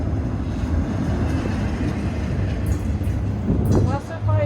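Freight train carrying Yang Ming containers rolls past nearby with a continuous heavy rumble and rattling wagons, steady throughout, and a voice speaks briefly near the end.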